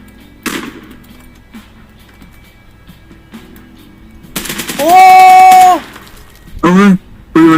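Machine gun fire in the tactical shooter game Zero Hour: a single sharp shot, then a loud sustained burst mixed with a rising tonal whine, and a shorter burst at the end.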